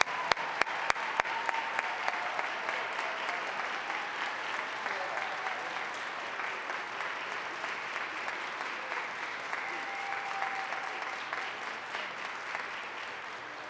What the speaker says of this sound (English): A huge round of applause for the Ohio State School for the Blind's marching band